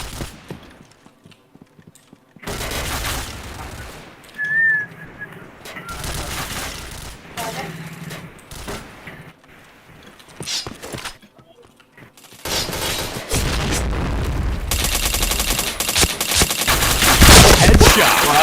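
Gunfire from the shooter video game Point Blank, with bursts of shots and mechanical clatter that grow into sustained loud firing toward the end, mixed with voices talking.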